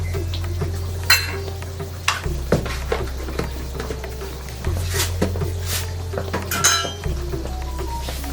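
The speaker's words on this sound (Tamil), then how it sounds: "இதையும் பொன் முருவலாக அப்படியே கோல்டன் கலருக்கு இதையும் ட்ரை ரோஸ்ட் பண்ணுங்க" Chana dal and urad dal dry roasting in a pan over a slow flame, with scraping and clinking from a stirring utensil against the metal and a faint dry rustle, spaced stirs near and fairly loud, no talking.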